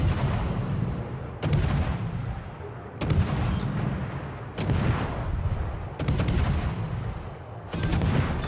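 Naval guns of the tier IX premium European destroyer HNLMS Friesland fire in World of Warships, heavy booming salvos arriving in regular bursts about every one and a half seconds over a continuous rumbling battle din.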